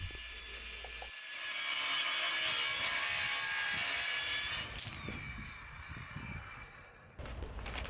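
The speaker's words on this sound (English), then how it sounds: "this is my circular saw that I use, and I attached a straight edge guide to it" A circular saw fitted with a straight edge guide cuts through wood: a loud, sustained, high whining rip lasting a few seconds, then tapering off as the blade winds down.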